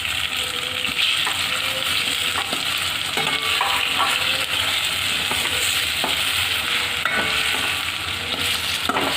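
Chopped tomato frying in a pan for Punjabi khichdi, a constant close sizzle with repeated scraping and clinking of a spoon stirring through it, no voices.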